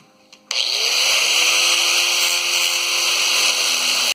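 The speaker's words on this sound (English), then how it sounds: "Let's cut this fuel pump open and see what's inside of it" A high-speed cutting tool whines steadily into the metal housing of a 1967 Chevy G10 fuel pump, starting abruptly after a short quiet moment and running loud and continuous with a slight pitch sweep as it bites in.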